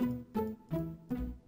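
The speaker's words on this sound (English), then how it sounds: "First sound we have, guys, is the Pisticato Strings." Four short plucked pizzicato string notes from the Purity plugin, evenly spaced and quiet, each decaying quickly before the next.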